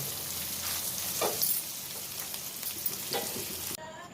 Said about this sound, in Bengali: দিয়ে পনিরগুলোকে আমরা ঠিক হালকা করে ভেজে নেব